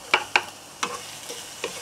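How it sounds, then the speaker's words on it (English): Thin ginger slices stir-fried in hot oil: a few sharp spatula scrapes and taps against the pan, spaced apart, over a faint sizzle, close and fairly quiet. "Heat up the oil. I like to stir fry the ginger first"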